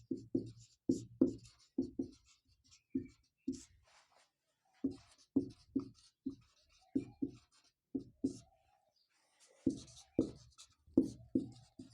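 Pen or chalk writing out a geometry maths problem, a quick run of short scratchy strokes in bursts with brief pauses, close and fairly quiet, with no talking.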